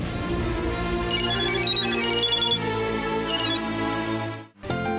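A telephone rings with a repeating electronic melody, steady and fairly loud, cutting off briefly near the end before starting again.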